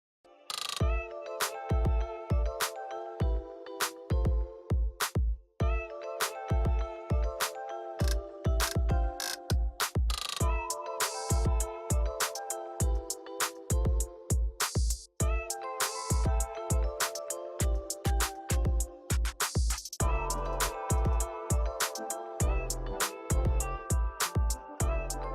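A sewing machine runs close by, stitching 3/8-inch shoulder seams in a sequence of rapid mechanical whirring bursts. Brief pauses separate the runs.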